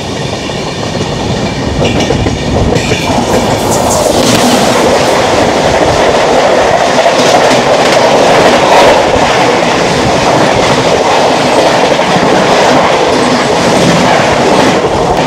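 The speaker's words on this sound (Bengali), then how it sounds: "চলে আসছে ট্রেন নাম্বার 1233-8 বোলপুর শান্তিনিকেতন থেকে হাওড়া শান্তিনিকেতন এক্সপ্রেস" A Shantiniketan Express passenger train from Bolpur to Howrah rolls past close by, a loud continuous roar of wheels and carriages with steady clickety-clack that swells after the first few seconds and stays dense to the end.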